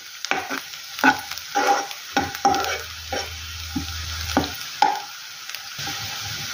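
Onion and curry leaves sautéing in hot oil for a Maharashtrian tomato chutney, with a steady close sizzle broken by repeated scraping stirs of a spoon against the pan.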